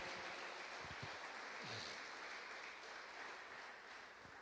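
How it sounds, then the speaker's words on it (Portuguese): A church congregation claps through a worship service, a dense, steady wash of applause that holds at an even level for the whole stretch, with no talk. "Bate palmas para Jesus."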